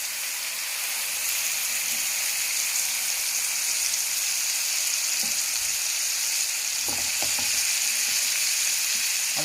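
Chicken sizzles and fries steadily in butter with ginger garlic paste over a low flame, a dense continuous crackle with a few small pops and stirring clicks near the end, close and fairly loud, with no talking.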